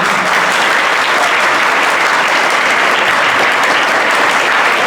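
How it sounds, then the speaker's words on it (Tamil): Loud, steady applause from an audience fills the hall at a Rotary Club of Aarch City Madras E-Vidhya project inauguration, continuing unbroken for about five seconds with no one speaking over it. "ஸோ அவருக்கு ஒரு கைத்தட்டல் கொடுக்கலாமா?"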